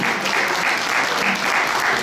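Dense, steady applause from an audience at a live children's quiz challenge in Paris, a continuous wash of clapping that stays at even volume throughout.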